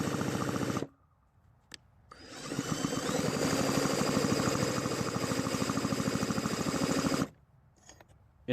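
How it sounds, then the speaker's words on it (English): A power drill spins a Craftsman leaf blower engine over in two bursts, the second a long steady whir with rapid rhythmic compression pulses, separated by short gaps of near silence. "use a drill to turn the engine over"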